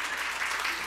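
A church congregation at a revival meeting breaks into applause, a dense, steady wash of clapping filling the hall throughout the brief moment.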